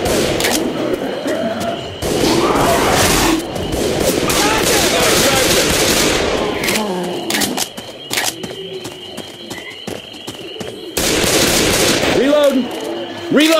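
Bursts of gunfire and chaotic combat noise in the zombie shooter Left 4 Dead 2, loud dense volleys broken by quieter stretches, with players talking over the action.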